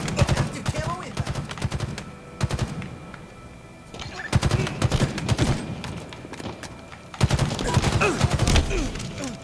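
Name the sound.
gunfire in video game Halo Infinite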